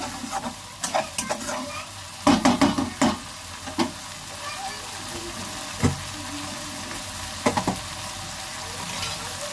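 Spice paste fried in a pan, a low sizzle under scattered spatula scrapes and knocks that come in short bursts, close by and moderately loud.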